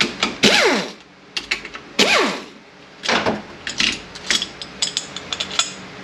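A hand ratchet backs out 12 mm bolts on an RE5R05A automatic transmission, with quick bursts of metallic ratcheting clicks, then scattered metal clinks and taps at close range.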